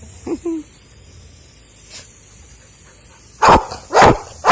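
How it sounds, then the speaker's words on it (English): A dog gives a few sharp barks, with a brief yip early on and two louder barks near the end, close by in a quiet space. "Now you're barking."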